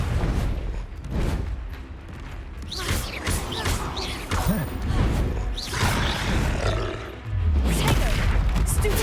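Incendio and Confringo spells are cast in the video game Hogwarts Legacy, producing repeated fiery booms, whooshing roars and crashing blasts that overlap in a loud, continuous barrage.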